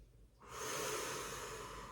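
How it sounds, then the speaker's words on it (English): One deep, close breath during a Pilates mat class, quiet at first, then swelling into a long, steady airy rush that holds to the end. "Take a couple of deep breaths."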